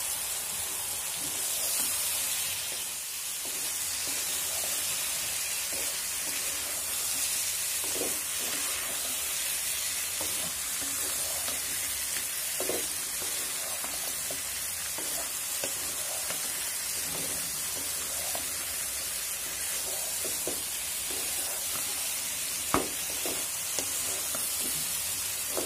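Potatoes and eggplant fry in spiced oil with a steady, even sizzle, while a spoon stirring in the pan adds soft irregular scrapes and clicks close by.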